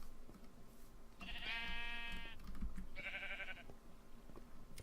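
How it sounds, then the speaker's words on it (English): Sheep in Minecraft bleat twice, a longer wavering call followed by a shorter one, heard up close over quiet game ambience. "I've got my population of sheep here for shearing."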